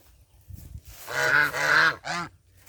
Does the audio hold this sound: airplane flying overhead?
no